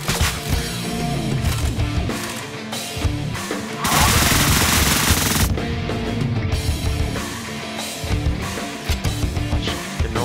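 Dense, loud gunfire fills the stretch in the top-down shooter game Deadbolt, with shotgun blasts and rapid bursts overlapping continuously alongside game music.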